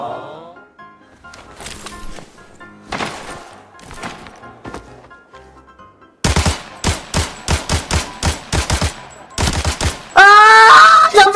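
Bursts of automatic gunfire in the shooter Arena Breakout, scattered distant shots early, then loud rapid close-range volleys with sharp repeated cracks and a final sustained burst.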